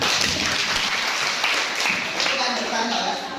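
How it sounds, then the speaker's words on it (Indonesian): Classroom applause from students, a dense steady patter of many hands clapping close by for the full length, with some voices mixed in. "terima kasih tepuk tangan"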